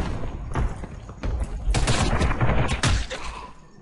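Bursts of automatic gunfire in the online shooter Ghost in the Shell: Stand Alone Complex First Assault, loud rapid volleys clustered together, close up with no talk.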